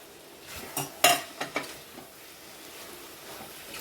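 Spoon stirring paneer cubes through capsicum masala in a pan, a few soft scrapes and clinks with one sharper knock near the start, faint sizzle beneath, then quieter.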